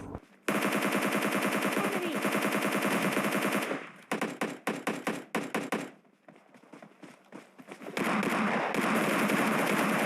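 Rapid automatic gunfire and bursts of shots in PUBG Mobile Lite, loud and dense, with a stretch of separate single shots and a short lull before sustained firing resumes.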